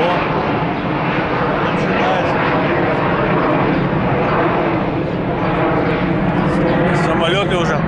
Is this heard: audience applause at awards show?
no